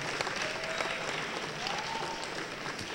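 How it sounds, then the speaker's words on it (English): A crowd of first-generation college students and guests claps at a school show, a soft, distant wash of applause that carries on evenly for a few seconds, with a faint tone drifting through. "Let's give you a big round of applause for being here today."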